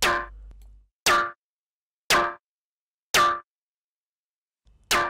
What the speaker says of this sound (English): The modulation envelopes are controlling both pitch and cutoff to give the sound a zappy effect.